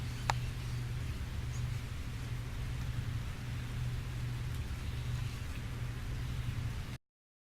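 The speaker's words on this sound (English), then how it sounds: "The rain continues to hurtle from the heavens." Steady rain in the video game Calvino Noir hisses evenly in the background with a low rumbling undertone, continuous and fairly quiet, with one faint sharp tick near the start.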